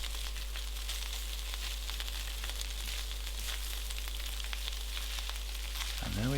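Spring onions are stirred into char siu egg fried rice in a hot pan, a soft, steady sizzle with faint scraping and a low hum beneath, fairly quiet throughout.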